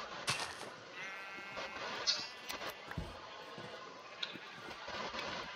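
Sheep bleat in Minecraft, with several short bleats scattered across a quiet background, some nearer and louder than others, and no talk.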